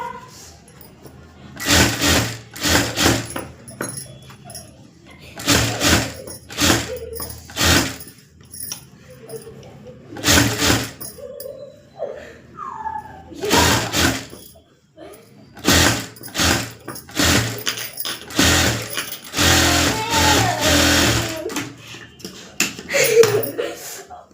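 Sewing machine stitching thread piping onto a garment seam, running in short, loud, repeated bursts with brief pauses between them, close by throughout.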